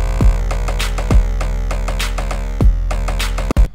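Electronic beat from an Ableton Live synth with its decay set fully up: booming low kick hits recur about every 1.3 seconds under sustained, ringing tonal layers and bright repeated upper accents, loud and continuous with no talk.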